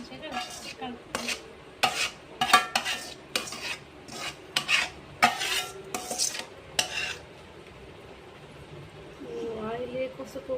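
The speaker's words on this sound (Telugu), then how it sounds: "ఖచ్చితంగా చేతితో కలిపితేనే మంచిగా కలుపుతుంది." Avakaya mango pickle being mixed with oil by hand, giving a series of wet, squelchy stirring strokes at close range through the first seven seconds, then softer mixing with faint background voices.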